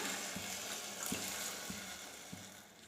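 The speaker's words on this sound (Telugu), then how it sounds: "ఒక గ్లాసు నీళ్ళు వేసేసుకున్నాము" Water is poured steadily into a pan with sugar to make gulab jamun syrup, a soft, continuous splashing broken by a few faint low knocks.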